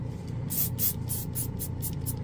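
Rapid bursts of high hissing spray from a trigger airbrush spraying paint, about eight short pulses in quick succession over a low steady hum, close and fairly loud.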